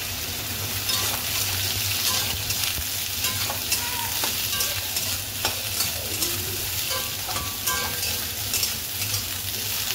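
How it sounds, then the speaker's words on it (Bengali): Soybean chunks fry in oil with dry chillies, cinnamon and cardamom, giving a steady loud close sizzle with frequent stirring scrapes throughout. "এবার একটু সোয়াবিনটা ভেজে নেব"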